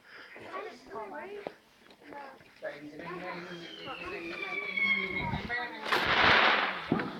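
Fireworks exploding on bonfire night, with distant booms and crackles building toward a louder burst near the end while people talk over them.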